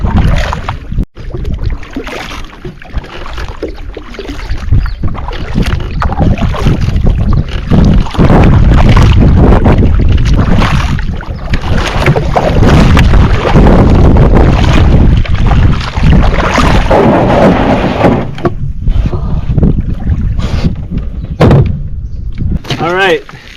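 A solo canoe paddled across a lake in Algonquin Park on a spring trip, with strong wind roaring and buffeting the microphone over steady splashing and rushing water for the whole stretch, loud and close.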